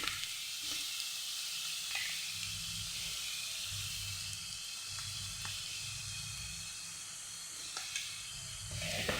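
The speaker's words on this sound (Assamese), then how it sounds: "এইখিনি খুব বেছি 30 ছেকেণ্ড এইখিনি ভাজিলে হৈ গ'ল।" Spices sizzle and hiss steadily in hot oil while a radish pickle is prepared in a home kitchen, a soft continuous fry with occasional faint clicks of stirring.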